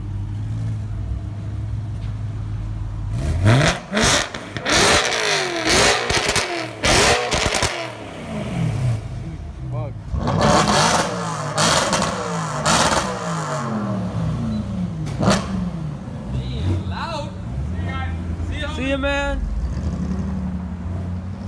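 Car engine at a racetrack, first idling low and steady, then revved hard in repeated loud bursts with rising and falling pitch, settling back to a rough idle between pulls, with a few voices talking nearby.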